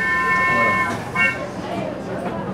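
Departure of a train at a station, with a sustained horn-like tone fading out over steady rumbling rail noise and faint background voices.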